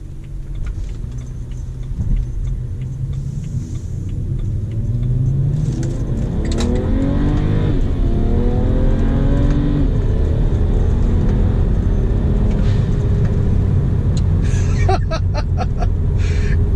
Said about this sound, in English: Damn, I love this car